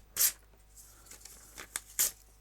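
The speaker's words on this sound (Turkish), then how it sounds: "kağıdı 3 parça haline getirdim" A sheet of paper ripped into three pieces as part of a classroom physical-change demonstration, with sharp tearing bursts at the start and end and small crinkles between, close and fairly quiet, with no one talking.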